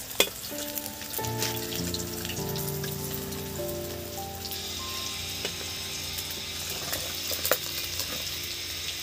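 Katla fish fries in hot oil with a continuous crackling sizzle like rain on a surface, near and steady, with occasional utensil clinks and faint background music tones.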